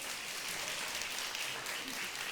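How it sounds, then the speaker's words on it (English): Applause from an audience at a fireside chat for Dr. Messino, a dense, fairly quiet wash of clapping without pauses. "Another round of applause for Dr. Messino, please."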